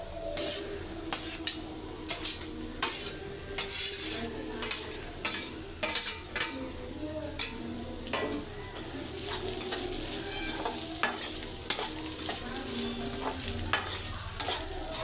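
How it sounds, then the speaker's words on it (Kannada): Okra fries with a steady hiss in a pan while a spatula stirs it, giving repeated scrapes and clatters against the metal for about fifteen seconds; no voices. "ಬೆಂಡೆಕಾಯಿ ಚೆನ್ನಾಗಿ ಫ್ರೈ ಆಗಿದೆ"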